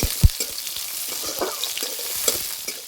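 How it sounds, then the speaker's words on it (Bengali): Onions fry in mustard oil in a kadai with five-spice and bay leaf, a loud, close sizzle broken by repeated scraping clicks of stirring. "পেঁয়াজ হালকা লাল করে ভেজে নিয়েছি"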